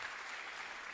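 Steady, dense applause fills a chapel during a Catholic mass, loud and continuous throughout the short moment with no voices over it.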